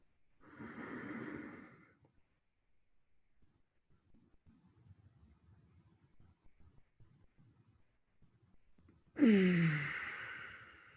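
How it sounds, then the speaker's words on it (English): Two deep breaths from a Tummo meditation session: a long, heavy exhale opens the sequence, quiet breathing follows, then a forceful, rough inhale rises loudly near the end. "Deep breath."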